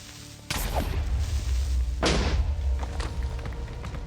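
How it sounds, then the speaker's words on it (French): Two sharp booming blasts in the Minecraft video game, creeper explosions about a second and a half apart, each a sudden thud with a crackling, rumbling tail, followed by scattered small clicks. "Un creeper a explosé, il m'a donné du diamant."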